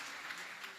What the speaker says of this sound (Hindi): एक बार तालियां बजाकर सूचना दे दीजिए।